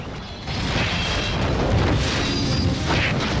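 A giant hammer smash attack in the Tang San MMO game lands as a loud, sustained crashing boom with mechanical rattling that fills the whole moment without pause.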